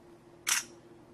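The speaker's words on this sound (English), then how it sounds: "if I press down the shutter button halfway, it'll get a focus and then I can take the photo" A DSTL1 camera's shutter fires once after half-press focusing, a single short crisp mechanical click close up, alone against a quiet background.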